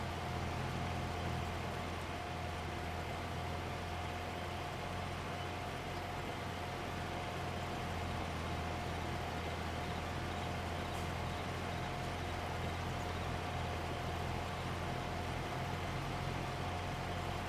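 A tractor engine in the Farming Simulator 22 game runs at a steady, unchanging drone with a constant low hum, faint and continuous for the whole stretch.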